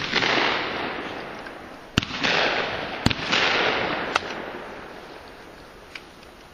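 Shotgun shots at an outdoor skeet shooting range: four sharp, fairly distant reports at irregular intervals over a steady breezy hiss, without talk.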